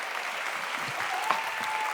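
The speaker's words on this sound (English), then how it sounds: "Let's give a nice round of applause." A live audience at a hypnosis and confidence stage show breaks into applause, a dense, even patter of many hands, moderately loud, with a brief whistle or whoop poking through.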